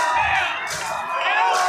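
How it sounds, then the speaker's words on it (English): Roaring arena crowd at a live combat fight, a dense continuous wash of cheers and shouting that swells loudly throughout, with commentary talk riding over it. "The crowd is going nuts over this right now."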